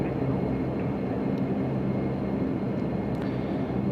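Majestic Q400 turboprop engines at takeoff power in a flight simulator, a steady broad droning roar holding constant throughout, moderately quiet with no speech.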